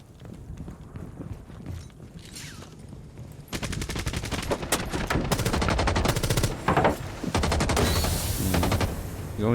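Gunfire in the game Rainbow Six Siege: a calm stretch, then rapid bursts of automatic shots ring out, loud and close, rattling in quick repeated strings with brief pauses between volleys.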